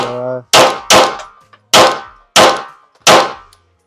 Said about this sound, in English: Now I am just shooting for the big orange center target.